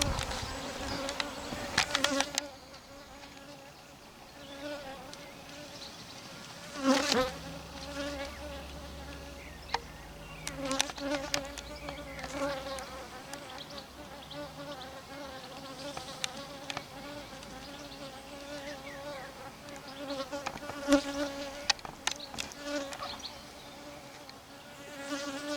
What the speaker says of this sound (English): It's thick with bees.